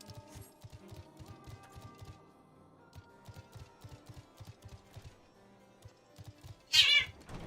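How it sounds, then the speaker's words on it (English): A cat meows once, sharp and fairly loud, near the end, after a stretch of quiet, rhythmic low tapping in an indoor setting. "Did I hear a cat?"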